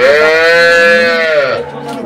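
A high-grade dairy cow at a cattle farm gives one loud, close, drawn-out moo lasting about a second and a half, which tails off into quiet farm background.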